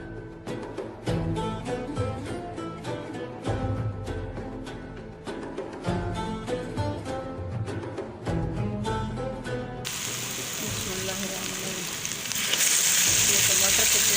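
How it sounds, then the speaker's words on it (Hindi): Green chili paste fries in a pan for village-style pota kaleji. A rhythmic background with beats plays first, then a loud, steady, hissing sizzle takes over for the last few seconds. "ये सब्ज़ मिर्ची के पेस्ट शामिल कर रही हूँ।"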